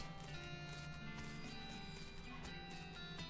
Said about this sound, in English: I got a horse. I can go head out west.